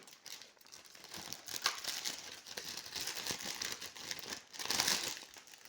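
Packaging being crinkled and torn open while unboxing a parcel, close and fairly quiet, with irregular crackling bursts and rustles throughout and no talk.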